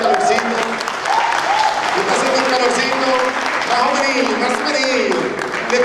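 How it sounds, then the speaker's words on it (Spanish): Church congregation clapping together during a Sunday service, a steady dense wash of applause filling the whole stretch with singing or voices running underneath. "vamos a dar un aplauso para que nos pongamos en calor"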